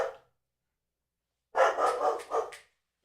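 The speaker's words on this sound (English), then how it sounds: "we got the guard dog taking care of the shop" A guard dog at a shop barks in a quick cluster of several sharp barks about a second long. They sound close and clear, with silence before them.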